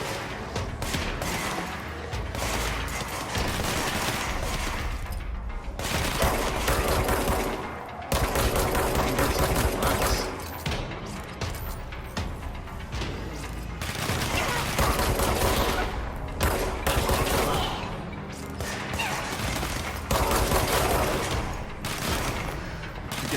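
Sustained automatic gunfire from the video game Control, with dense rapid bursts broken by brief pauses and heavy booms running almost continuously for over twenty seconds.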